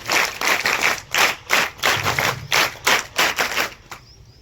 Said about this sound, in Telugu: Scout claps go.